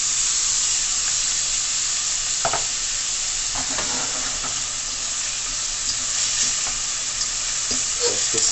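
Herbs and saltfish sautéing in a pan for Jamaican ackee and saltfish, giving a steady close hiss of frying with a few soft scrapes and stirs, no voices.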